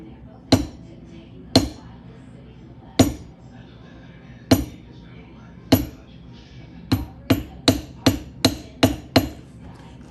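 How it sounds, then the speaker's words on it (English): A small hammer taps a leather craft beveling tool, sharp single strikes spaced apart at first, then a quick even run of taps, close and crisp against a quiet room. "you'll use that with the little hammer for those inside of these curves like that"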